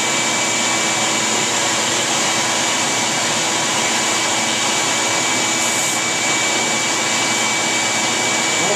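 Drum sander running with a vacuum dust collector attached, a loud, steady, broadband roar and whine continuing unbroken at close range.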